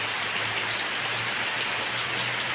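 Steady rain falls outdoors, a dense continuous hiss of drops striking surfaces, even and unbroken throughout with a faint low hum beneath and no voices.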